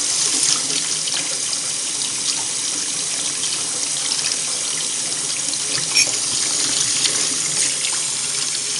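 Hot water runs steadily from a tap into a sink, a constant close hiss and splatter with no voices, unbroken throughout.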